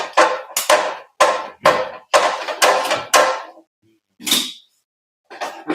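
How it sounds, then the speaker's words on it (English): Sharp knocks from a screwdriver tapping a part, close by, in an irregular run of about a dozen quick strikes with brief pauses and a last cluster after a short gap. "give him a little tap with the screwdriver"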